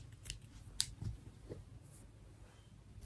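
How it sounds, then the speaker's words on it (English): Scissors snip a small piece of black yarn in a quiet crochet setting, giving a couple of short, sharp close clicks, with faint handling noise around them and no talking. "I'm just going to go ahead and cut off a small piece of black yarn"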